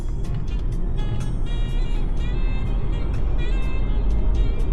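A car engine under a hard kickdown surges steadily and loudly for several seconds, a dense low roar with rising whine, recorded from inside the vehicle with no talk.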